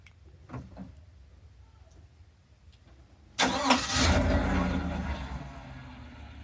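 After a few quiet clicks from a key fob, a Chevy Silverado pickup engine remote-starts, cranking and roaring to life, then settles into a loud, steady idle nearby.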